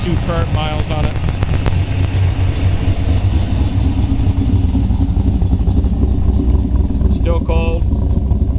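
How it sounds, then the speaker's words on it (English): A 1969 Chevrolet Camaro ZL1 427 V8 idling cold through a Borla exhaust with a center-hung muffler, giving a loud, steady low rumble with a few brief rev blips, while someone talks nearby. "Cool Borla exhaust on it."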